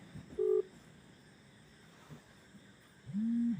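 A phone call's electronic tone as the call is cut off: a short, clear beep, then quiet, then a longer, steady tone near the end, loud and close with no talking over it.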